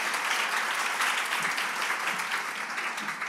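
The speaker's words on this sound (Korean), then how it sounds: "우리 박수 한번 쳐주시길 바랍니다." A church congregation claps during a sermon, a continuous, dense patter of applause at an even, fairly loud level with no voices over it.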